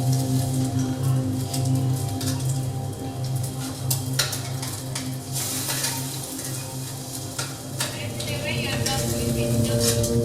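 Fish sizzling on a grill beside plantains, a steady dense crackle and hiss with occasional sharper pops, close and continuous throughout.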